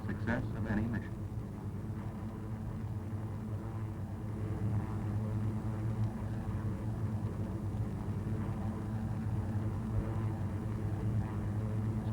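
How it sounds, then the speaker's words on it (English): A World War II B-17 or B-24 heavy bomber's piston engines in a steady, loud droning roar as it takes off and climbs, with a voice talking over it. "Bomber takes off for high altitude regions"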